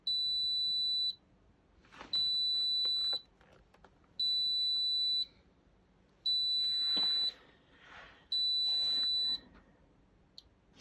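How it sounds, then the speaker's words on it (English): A UV curing light for a Gemex gel kit gives five long, shrill electronic beeps in an even rhythm when finished, each about a second, separated by short pauses with faint clatter between. "So that means it's done. That lovely beeping."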